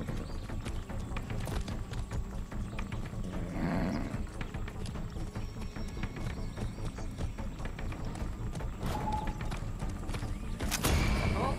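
Horse hooves clip-clopping at a gallop in the video game Far Cry 6, a steady rapid drumming of hoofbeats with a whinny partway through, fairly faint and continuous throughout.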